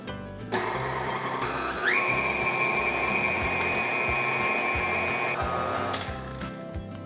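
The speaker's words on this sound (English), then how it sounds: "we just need to mix them for about 2 minutes on medium speed" Electric hand mixer beating bundt cake batter at medium speed, a steady close motor whine with a rising pitch as it spins up, continuous for several seconds with a faint rhythmic mechanical rattle underneath.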